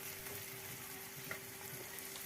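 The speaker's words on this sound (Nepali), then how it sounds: "अब यसलाई एकछिन भुट्छु हैन।" Ground cumin fries in a pan with a soft, steady sizzle and occasional faint stirring, quiet and close, with no talking.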